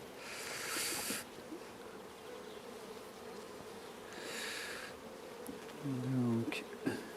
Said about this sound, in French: Les abeilles sont relativement vivaces.